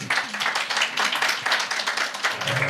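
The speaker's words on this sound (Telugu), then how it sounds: "రైట్, గట్టిగా చప్పట్లు" A concert audience at a tribute song event claps loudly and fast, a close, dense patter of many hands that continues unbroken for the whole stretch.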